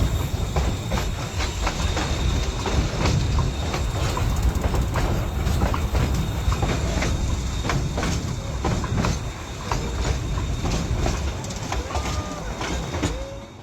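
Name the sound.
train crossing a high canyon trestle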